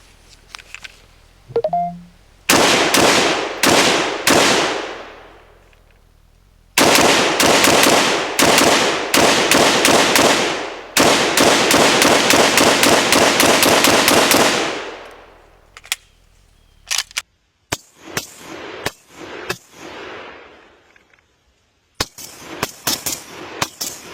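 An IWI Galil Gen 2 pistol in 7.62x39 fires in rapid strings of loud, close, sharp reports, several bursts of quick shots separated by short pauses, then scattered single shots and brief clatter.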